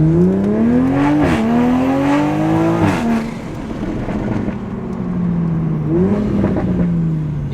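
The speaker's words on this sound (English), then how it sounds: "so that's a stock exhaust" A Toyota GR Supra with a stock exhaust revs loudly, the exhaust note climbing and dropping through several throttle blips, close and continuous throughout.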